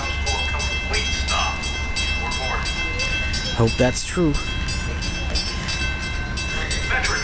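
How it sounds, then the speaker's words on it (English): A METRA commuter train pulls into a station in pouring rain, with rumbling wheels and rail clatter under steady rain hiss, a brief horn-like tone, and a person speaking briefly. "The next inbound METRA train to Chicago is now arriving in your station."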